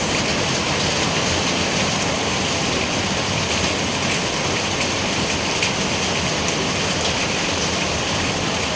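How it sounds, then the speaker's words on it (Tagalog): Heavy rain pours down in a sudden downpour, a dense, steady roar of drops hitting surfaces that stays loud and unbroken throughout, with no voices over it. "Ayan, guys, ang ulan."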